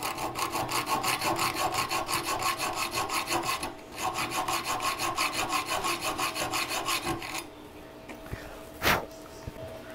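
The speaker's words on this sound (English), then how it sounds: "Hacksaw, preferably in a vise. You can whittle your way down on that." A hacksaw cuts down a bolt clamped in a vise, with quick, steady back-and-forth rasping strokes for about seven seconds, a brief pause near the start, then quiet and a single sharp clack.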